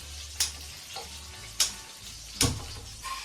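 Quiet sizzle of catfish frying in oil, with a few sharp clinks and taps from a utensil against the pan.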